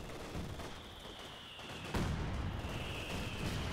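Stuka dive bomber strikes in Company of Heroes 2 battle, a distant rumbling barrage with a sharp impact crack midway, set against a steady whine and dense background noise.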